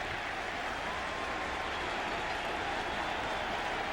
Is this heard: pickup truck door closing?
no